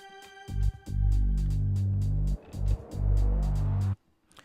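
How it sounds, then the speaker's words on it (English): Bass and drums from an instrumental remake of a song: a heavy sustained low bass with regular drum hits, loud and full, cutting out briefly midway before resuming and stopping abruptly. "this is what it sounds like: the bass and the drums and everything else"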